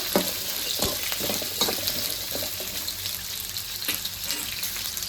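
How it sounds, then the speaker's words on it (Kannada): Onions frying for a hotel-style donne biryani, a loud, continuous hissing sizzle from the pan with stirring scrapes and bubbling throughout. "ನಾನಿಲ್ಲಿ ಒಂದು ಅಷ್ಟು ಈರುಳ್ಳಿನ ತೊಗೊಂಡಿದ್ದೀನಿ ಇದನ್ನ ಇವಾಗ ಚೆನ್ನಾಗಿ ಫ್ರೈ ಮಾಡ್ಕೊಳ್ಳೋಣ"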